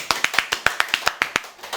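A quick, even run of about a dozen sharp handclaps, close and loud with no voices over them, welcomes a guest lecturer being introduced on a talk-style show.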